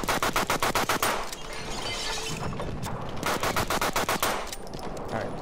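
A WW1 machine gun in Battlefield 1 hammers out evenly spaced rapid shots in close, loud bursts, pausing briefly before more sustained firing.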